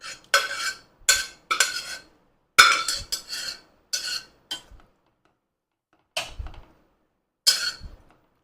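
Metal utensils and pans clink and scrape as Madurai-style mutton chukka is moved into a kadai: sharp, close, separate clatters come in short bursts, with quiet gaps between them.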